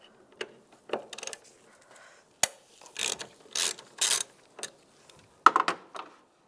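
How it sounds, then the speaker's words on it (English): A ratchet with a 5mm hex socket loosening a bolt on a 1999-2005 Volkswagen Jetta engine, producing close, sharp clicking bursts spaced irregularly with brief quiet gaps between strokes. "we're going to take this bolt out right here, use a 5mm hex socket"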